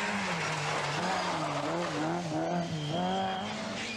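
Rally cars racing flat out on a 1988 British Open Rally Championship stage, with loud, continuous engine roar that rises and falls in pitch as the cars shift and accelerate, plus tyre squeal and skidding, close to the microphone.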